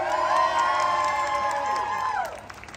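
An audience at a Back to the Future cosplay competition in Blackpool cheers and whoops loudly for a child contestant, a full crowd roar that holds steady for a couple of seconds and then fades, with shouts standing out inside it.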